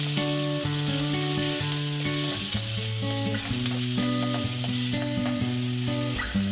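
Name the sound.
onion, curry leaves and tomato frying in hot oil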